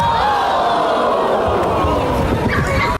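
A large crowd roars and shouts in a loud, continuous wall of voices with cheering swells, close and dense, then cuts off abruptly at the end.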